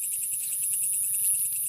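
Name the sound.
jangkrik kaliong cricket chirping at night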